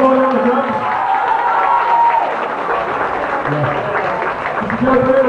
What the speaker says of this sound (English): Clap for Holly Corner on the drums